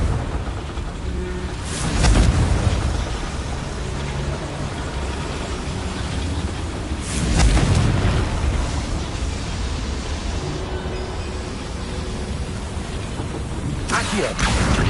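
Confringo fire spell explosions in the video game Hogwarts Legacy: three broad, booming blasts, roughly five seconds apart, rising out of a constant rumbling wash of noise.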